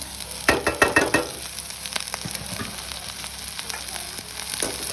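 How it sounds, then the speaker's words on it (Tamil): Onions, green chillies and curry leaves fry in hot oil for potato bonda, giving a steady close sizzle with a burst of clinks and scrapes from stirring near the start. "வெங்காயம் வந்து அவ்வளோ வதங்கி கொண்டிருக்கும் போது இப்போ நாங்கள் அடுத்ததாக பச்சை மிளகாயம் வந்து போட்டுக்கொள்வோம் அதோட கருவேப்பமிலையும் போட்டுக்கொள்வோம்"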